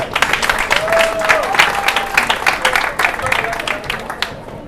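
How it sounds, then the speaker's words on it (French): Audience applause at a forum in France's ambassador's address, a steady burst of clapping from a crowd that fades toward the end, with a voice briefly audible over it. "on l'applaudit quand même"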